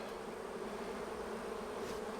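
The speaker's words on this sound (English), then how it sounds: "Happy bees and busy bees." Honey bees buzz in a dense, continuous drone, a soft steady hum of many insects close by with no voices.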